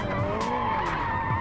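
A car in a racing video game skids and spins out, with a sustained tire squeal over the engine drone lasting the whole brief moment.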